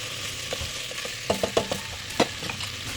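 Onions sautéing in olive oil in a pan for sweet pork adobo, a low steady sizzle with a cluster of quick spatula scrapes and taps near the middle, close up.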